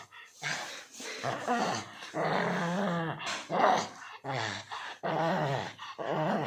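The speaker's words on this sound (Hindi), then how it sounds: "देखो गुर्राहट।" A pet dog growls in repeated low, rumbling bursts with short gaps, close and loud, rising into snarling whimpers during a tussle at home.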